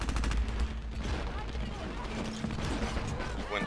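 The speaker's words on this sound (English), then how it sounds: "Bloody airstrike" Dirty Bomb match with rumbling blasts and a rapid volley of gunfire under game voices, the explosions of an airstrike blending into continuous battle noise at moderate volume.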